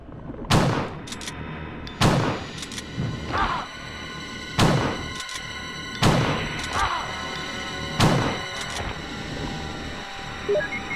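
Gunshots in Resident Evil: Director's Cut, roughly six loud, sharp reports spaced about every second and a half, each with a ringing decay, some followed by thudding impacts.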